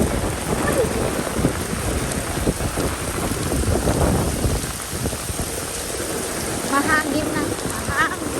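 Wind roars and buffets in gusts over steady pouring rain, with brief voices near the end.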